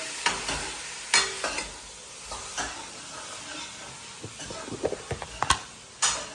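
Rice being stirred in a pot as it cooks, with a spoon scraping and tapping the sides in uneven strokes over a soft background hiss, getting busier with quick clicks toward the end.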